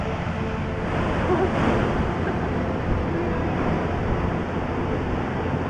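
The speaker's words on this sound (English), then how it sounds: "It's an amazing 50-foot drop waterfall from the loch above," Waterfall plunging about 50 feet from a loch above in the Scottish Highlands, a steady broadband roar of rushing water, loud and continuous without pause, with possible wind noise mixed in.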